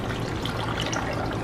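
Liquid pours steadily into a blender jar while a virgin strawberry pina colada is being made, a close, continuous splashing and gurgling with no talk.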